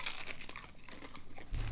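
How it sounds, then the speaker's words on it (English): A crunchy Taco Bell shredded beef grilled cheese dipping taco is bitten and chewed, with close, faint crackling and crinkling crunches repeating unevenly throughout. "Nice crunch to the taco."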